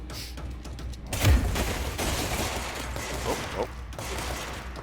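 Burst of gunfire in the video game Control, a dense volley over a steady low rumble of game sound, loud and close, with a brief exclamation from a player.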